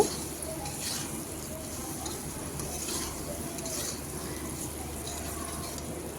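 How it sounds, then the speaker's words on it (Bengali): Ash gourd and taro being stir-fried together in a pan, with a continuous close sizzle and scraping stir sounds that keep a busy, even texture the whole time, no voices. "চাল কুমড়োগুলো দিয়ে আমি বেশি সময় ভাজবো না, 1 মিনিটের মতো কচুর সঙ্গে কষিয়ে নেব।"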